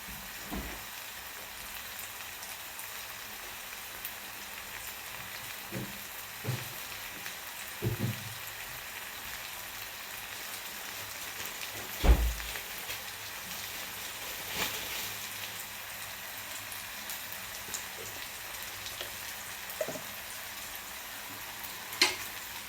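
Onion and tomato soften as they fry in a pan for poha, giving a long, faint, steady sizzle with occasional spatula scrapes and knocks scattered through it.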